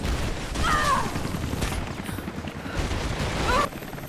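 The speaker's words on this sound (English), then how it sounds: "But then a helicopter starts chasing and shooting after you." A helicopter in Rise of the Tomb Raider chases and fires, with bursts of rapid gunfire over a dense, rumbling rotor and battle din, loud and close, with occasional whistling streaks.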